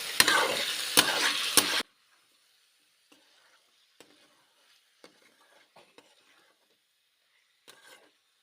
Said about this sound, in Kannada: ಉಪ್ಪೆಲ್ಲ ಚಿಕನಿಗೆ ಚೆನ್ನಾಗಿ ಹಿಡಿಯೋ ಥರ ಮಿಕ್ಸ್ ಮಾಡಬೇಕು.